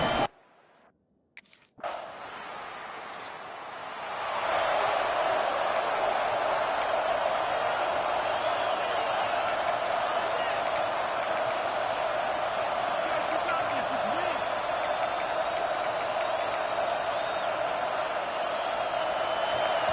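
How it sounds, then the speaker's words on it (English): Loud, sustained roar of a college football crowd at the Florida Gators' home stadium that swells after a brief quieter moment and stays dense and continuous. "This crowd bringing the energy and noise early."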